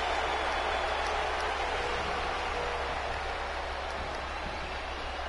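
Dense, steady roar of a wrestling arena crowd in Milan, a broad wash of cheering and noise holding constant for several seconds, with no distinct voices standing out.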